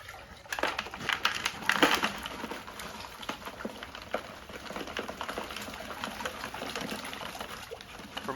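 Water washes diamond-field gravel through screen sets at Crater of Diamonds State Park, sloshing and trickling close by with rattling stones, busiest early and then settling into a softer, continuous wash.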